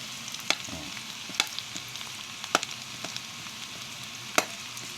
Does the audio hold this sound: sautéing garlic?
yes